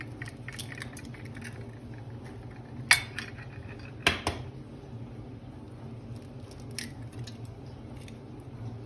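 Eggs cracked one after another into a bowl for a tahini cake batter, a few sharp close taps against the rim spaced seconds apart over faint background hiss.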